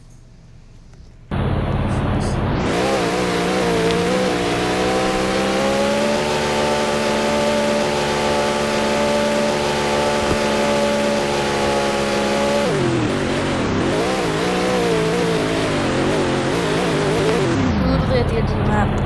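A car driven in a video game, its engine holding a loud, steady drone for several seconds before the pitch shifts and wavers as it keeps going.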